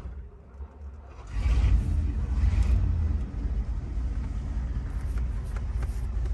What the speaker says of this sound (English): It turns really slowly because it's a 6-volt system, but the car usually fires right up.